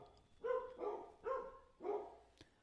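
A dog barks four times in a steady, evenly spaced series, each bark fairly close and moderately loud, with quiet pauses between and a faint short click at the end.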